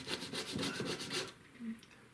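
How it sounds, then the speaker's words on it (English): Smooth sandpaper rubbed over a line-and-wash painting of a barn in quick rhythmic strokes, soft and close, then a short pause and one final light rub. "I'll just to get a bit of smooth sandpaper or equivalent"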